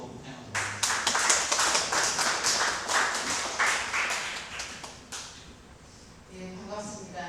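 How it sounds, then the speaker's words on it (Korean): An audience claps in welcome for a senior data-science professor at a lecture, a dense sustained round of applause that swells quickly, holds for several seconds, then thins out as a voice begins speaking. "우리 선임 교수님 박수로 환영하도록 하겠습니다"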